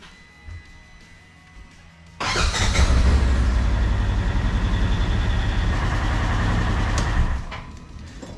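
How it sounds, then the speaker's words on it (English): A Polaris Ranger UTV engine turns over and settles into a steady, close idle, running loud and even after a quiet start. "start the UTV and let it run for a couple minutes"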